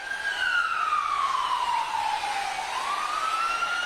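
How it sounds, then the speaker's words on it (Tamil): An ambulance siren wails at a political rally in Karur, its pitch sweeping down then rising again, loud and close over a noisy crowd background. "எச்சரிக்கை ஒலி எழுப்பியவாறு முதல் ஆம்புலன்ஸ் வந்தது"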